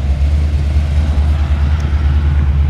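A 1962 Chevrolet C10 truck idles with a deep, steady, throaty exhaust rumble through Hedman headers. The sound is loud and close and runs continuously with no voices.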